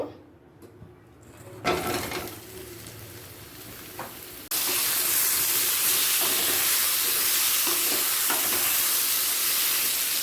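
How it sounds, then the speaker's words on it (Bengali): Close, loud sizzling erupts suddenly as pointed gourd hits hot mustard oil in a pan, preceded by quieter clatter, then a continuous hissing fry with occasional pops. "প্যানেতে সামান্য সর্ষের তেল দিয়ে দিলাম এবার পটলগুলোকে দিয়ে দেব"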